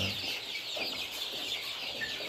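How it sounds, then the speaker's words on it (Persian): Newly arrived broiler chicks in a poultry house cheep constantly, a dense high-pitched chorus of many small birds, fairly faint and without pause. "جوجه ها رو وارد سالن کردیم"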